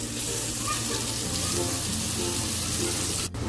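Ground spice paste sizzles in hot oil in a wok, a steady loud frying hiss that holds throughout with a brief break near the end.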